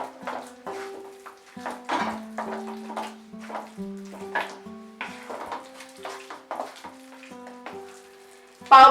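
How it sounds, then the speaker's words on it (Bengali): Potatoes and pav bhaji masala are stirred and fried in a pan, with repeated scraping strokes of a spatula against metal and a low sizzle, each stir rising and falling in a steady rhythm close by. "মশলার সঙ্গে আলুটাও খুব ভালো করে আমাদের মিশিয়ে নিতে হবে।"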